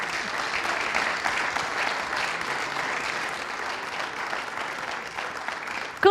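Steady applause from an audience at an awards ceremony, a sustained patter of clapping of moderate loudness lasting several seconds.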